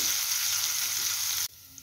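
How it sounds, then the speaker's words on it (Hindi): Cumin seeds, ginger and green chillies fry in hot oil with a loud, steady hiss close by, which drops off sharply near the end. "तेल गरम हो गला एबे जीरा दूची इटे अदा आ कंचा लंका को दे दूची हल्का भाजी दबा"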